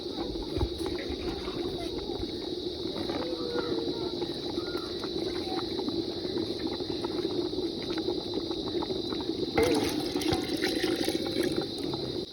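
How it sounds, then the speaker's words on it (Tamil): Water pours steadily into a pot while spicy macha kool is made in a village kitchen, a continuous close splashing gush that lasts throughout. "தண்ணி எல்லா தண்ணியும் இதுக்குள்ள விடுவோம்."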